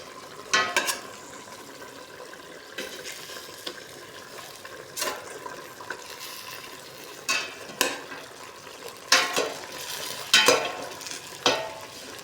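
Chicken adobo being stirred in a pan, with irregular scraping strokes and clinks every second or two over a low simmering sizzle, close by and without talk.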